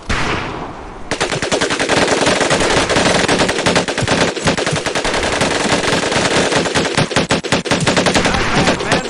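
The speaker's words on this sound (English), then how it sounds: "Take your time to aim and fire the weapon in short bursts only." An automatic weapon fires in rapid bursts in the Medal of Honor video game, loud and close, with dense rattling volleys and brief gaps running for several seconds after a quiet opening.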